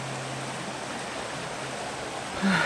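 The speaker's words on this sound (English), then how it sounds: "you're just hearing that sound of that water flowing" Water flows outdoors in a soft, even rushing hiss that stays steady and fairly quiet throughout, with a brief louder disturbance near the end.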